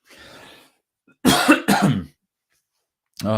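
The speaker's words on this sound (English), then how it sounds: "Sorry about the cough." Two harsh, close coughs in quick succession follow a brief breathy sound, then another cough begins at the end.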